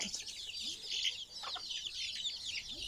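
Several chickens cluck and murmur softly nearby in scattered, overlapping calls over a faint hissing background, inside a root cellar.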